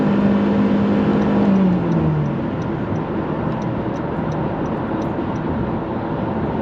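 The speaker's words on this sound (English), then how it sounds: "all you hear is that engine, and it's just the noise of the engine." A 2019 Honda HR-V Sport's engine gives a loud, steady drone with a whining tone that drops in pitch early on, then holds a constant roar as the car cruises at highway speed.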